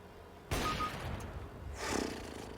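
Gunfire bursts in Counter-Strike: Global Offensive, a sharp loud onset followed by a second heavier blast, dense and close with no talk over it.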